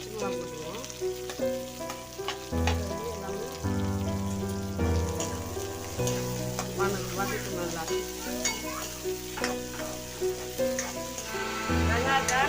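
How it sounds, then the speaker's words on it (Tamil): Curry leaves, green chili and onion sautéing in hot oil for a goat curry, a steady bright sizzle broken by scraping stirs, with a few louder bursts and some background music-like tones throughout. "வெங்காயத்தை நல்லா வதங்கி கொஞ்சம் நல்லா வரணும்"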